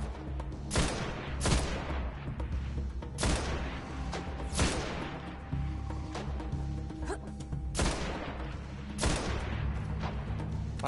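Repeated bursts of gunfire in the video game Destiny, loud sharp shots arriving in clusters every second or two over a low ambient rumble.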